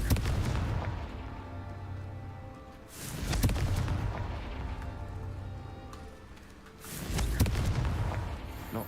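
Confringo blasting-spell explosions from Hogwarts Legacy land as three heavy booms a few seconds apart, each followed by a low rumbling tail that fades before the next blast.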